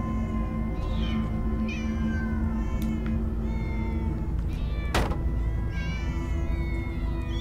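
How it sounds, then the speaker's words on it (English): Several cats meow repeatedly in Minecraft: Story Mode, overlapping high, wavering cries over a constant music bed, with one sharp click-like burst midway. "So many cats."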